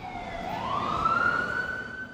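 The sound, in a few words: emergency vehicle siren in the city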